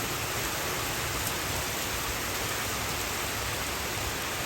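Steady rain pours down in an even, dense hiss that fills the whole stretch, close and constant with no voices or other sounds breaking through.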